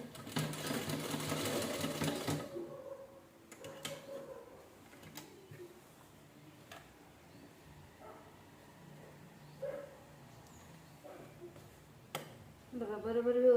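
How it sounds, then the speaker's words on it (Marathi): A sewing machine stitches round the neckline of a princess-cut blouse in a short burst of fast, close needle clatter at the start, followed by quiet handling clicks and someone speaking. "आणि ब्लाऊज बाहेरच्या साईडला शिलाई करायची गोल गळ्यानं"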